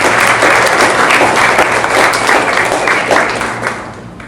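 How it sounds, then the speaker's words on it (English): A conference audience at an innovation gathering breaks into loud, sustained applause, many hands clapping densely for several seconds before gradually thinning out. "Please join me in a round of applause"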